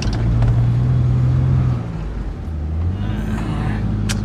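A car engine roars steadily while driving through soft desert sand near Dubai, a loud low drone with the pitch dropping partway through as the vehicle slows, then holding a rumbling hum.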